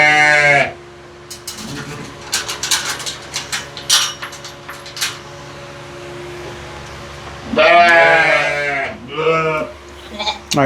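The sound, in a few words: sheep bleating during hoof trimming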